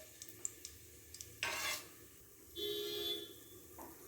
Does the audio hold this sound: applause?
no